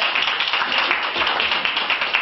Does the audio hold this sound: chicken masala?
no